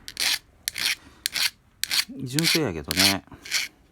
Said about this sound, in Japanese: ちょっとだけ削ってあげて OK。 バリがなくなったき、